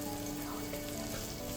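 Vegetables sauté in a pan for Kerala-style egg fried rice, giving a steady, even sizzle and frying hiss that stays loud and continuous through the short moment.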